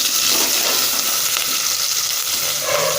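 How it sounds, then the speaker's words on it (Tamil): Onions frying in a pan for wheat upma, with curry leaves and green chilies: a continuous close sizzle and crackle with light stirring, and no talking. "வெங்காயம் நல்லா வணங்கட்டும்."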